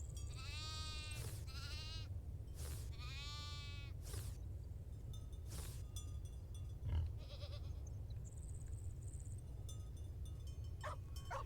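Goats bleat repeatedly in the Farm Together 2 farming game, several separate wavering calls spread over a steady low background hum, with no talking.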